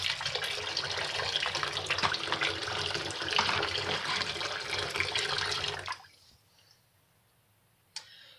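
Tap water runs steadily over a soapy Amiga 2000 plastic computer case being rinsed, a loud continuous splashing rush that stops abruptly, leaving near silence with one brief knock.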